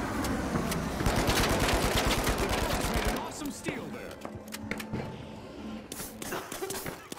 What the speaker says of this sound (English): My bullets are not going through?